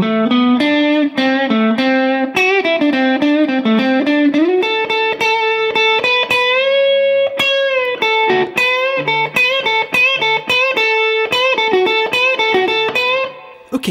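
Distorted electric guitar plays the second solo of a song, fast picked single-note runs with bends and chicken-picking stabs, loud and continuous, no talking.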